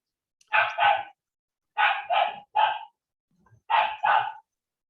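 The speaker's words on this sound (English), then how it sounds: "silence that dog, the person with the dog in the background" A dog barks in pairs of sharp yaps, about seven barks in three bursts, moderately loud and clear with no voices over them.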